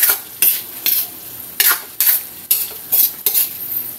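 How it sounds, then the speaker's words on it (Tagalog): Calamansi and red chili stirred into a cooked banana blossom dish, with loud, close, rhythmic scraping strokes of a utensil against the pan about every half second over a faint sizzle. "i-mix na natin tong kalamansi at siling red. Haluin natin."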